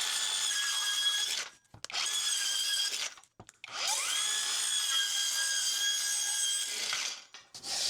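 A Hercules 4.5-inch handheld saw cuts across the grain of thin veneered plywood in several bursts, a loud high whine interrupted by short pauses between cuts, with the pitch dropping then recovering as the blade bites.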